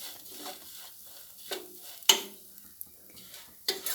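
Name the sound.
banana pieces being fried and stirred in ghee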